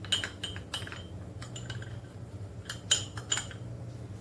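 A metal spoon clinks against a glass while a coffee mixture is spooned in for café-style cold coffee, giving several sharp, bright ticks in small clusters over a low steady background hum.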